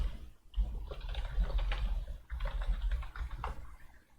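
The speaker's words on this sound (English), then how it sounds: "let me just type this up." Fingers tap out a steady run of clicks on a computer keyboard, close by, with a brief pause near the start and a low background hum.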